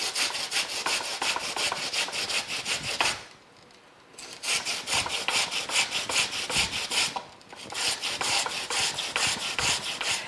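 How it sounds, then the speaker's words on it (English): Cassava is grated by hand on a grater made from an oil pan, a fast, rhythmic rasping of repeated strokes, loud and close, pausing briefly twice between bursts, with no one speaking. "And the grater is made from an oil pan, and you just grate the cassava."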